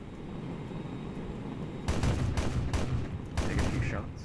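MiG-15 Bis cannon fire in War Thunder comes as a few short, loud bursts of rapid heavy shots, set against a steady engine hum.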